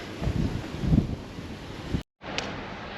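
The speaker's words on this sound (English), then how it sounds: "as you can probably hear, the wind is very high" Strong storm wind buffets the microphone by a rough sea at Souvala on Aegina, Greece. The roaring gusts are loud and continuous, cut by a brief dropout before the rushing resumes.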